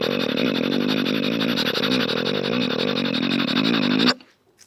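A mimicry artist's voice imitates a train and a motorcycle at once, a loud continuous droning buzz with wavering engine-like pitch held for about four seconds before cutting off abruptly.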